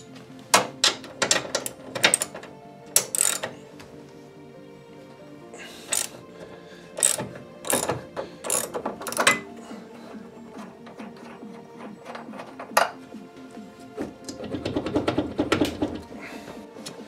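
A ratchet undoes a nut inside an Audi 2.7 Bi-Turbo during steering column and blower unit removal, sounding as bursts of rapid clicking separated by short pauses, close and fairly loud with faint rustling between.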